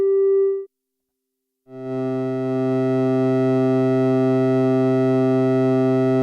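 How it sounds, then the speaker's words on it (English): A brief steady tone cuts off into a second of silence, then a rich, buzzing electronic drone swells in and holds: the maximum output of a Mutable Instruments Kinks module combining two sine waves, harmonically dense and sustained. "listen to just the max signal that Kinks is producing from combining these two"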